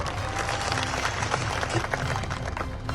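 A crowd at a political rally applauds police officers, dense, sustained clapping from many hands filling the whole moment at steady loudness.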